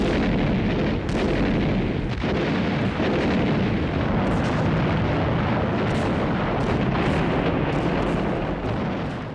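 Naval artillery bombards Iwo Jima's volcano during the wartime assault, a dense continuous roar of loud, rumbling explosions and booms overlapping without pause, heavy and broad across the whole stretch.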